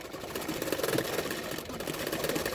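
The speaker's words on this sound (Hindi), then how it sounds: "मैं दोनों पार्टों को इस तरह से मिलाते जा रही हूँ और सिलाते जा रही हूँ" Sewing machine stitching blouse fabric pieces together, heard as a quiet, rapid, even mechanical whirr running continuously close by, with no talk.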